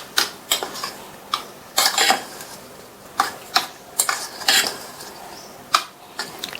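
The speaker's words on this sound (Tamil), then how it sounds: "இப்போ இதை நல்லா மிக்ஸ் பண்ணி விட்டுறலாம்." Rava puttu is stirred together with sugar and grated coconut in a metal vessel, giving close, irregular scraping clinks of a spoon against the pot, in quick clusters with short pauses.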